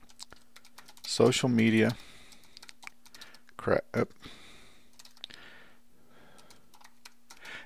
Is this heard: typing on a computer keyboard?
yes